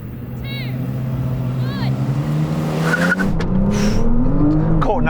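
An Audi RS5 and a BMW M3 launching off the line in a drag race, engines roaring and building in pitch with brief tire squeal, loud and close.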